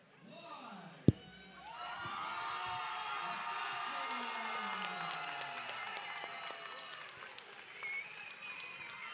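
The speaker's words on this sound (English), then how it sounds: "Listen to that crowd" A crowd at an MMA fight event cheers and applauds in a loud, sustained roar, with a sharp bang near the start before the noise swells and holds steady.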